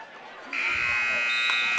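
Buzzer sounding at the end of the second period of a varsity high school wrestling match, a loud sustained electronic tone starting partway in and holding steady over the gym's background noise.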